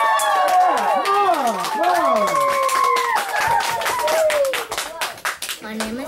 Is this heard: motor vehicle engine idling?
no